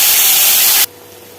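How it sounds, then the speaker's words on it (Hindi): Bottle gourd hits hot oil tempered with small dried red chillies, giving a loud, dense sizzling hiss that cuts off abruptly partway through, leaving quiet. "लौकी को छौंक दिया है।"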